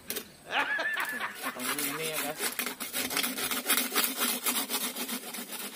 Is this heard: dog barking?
no